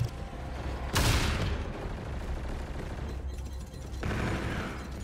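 Gunfire from the Call of Duty: Infinite Warfare video game, with a loud burst of shots near the one-second mark and more sustained firing later, set in a dense stretch of battle noise.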